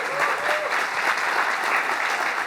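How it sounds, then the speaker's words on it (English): Steady applause from a conference audience welcoming a speaker to the stage, dense clapping throughout, with a brief tonal note near the start. "please give a warm round of applause to Mandi"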